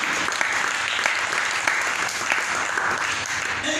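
A church congregation applauds, loud and sustained, a continuous dense clapping with a few sharper individual claps standing out, a faint voice occasionally underneath.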